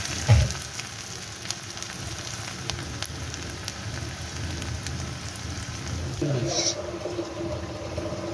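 Dried salted hilsa fish frying in a pan, a continuous rain-like sizzle heard up close with sharp crackles scattered through it, and a heavier burst of frying toward the end.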